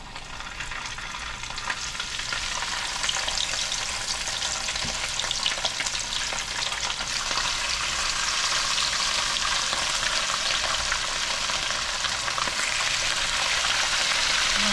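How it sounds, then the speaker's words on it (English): Steady, loud sizzling and crackling of thin bluegill fish frying in hot grease, continuous throughout with no talking. "next step is gonna be getting these guys in the grease"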